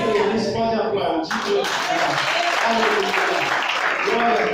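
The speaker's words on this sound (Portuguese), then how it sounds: "Quem feliz pode aplaudir." A church congregation claps together after a preacher's prompt, a full, steady wash of applause close by, with a voice speaking over the start before the clapping swells.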